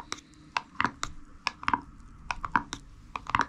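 A metal spoon stirs food in a pot, making irregular close clinks and light scraping taps in quick, uneven succession, fairly quiet against a soft background.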